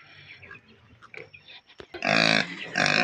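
A pig belonging to Manang Gina gives loud, close grunting squeals in the last second, after quieter scattered rustling and snuffling.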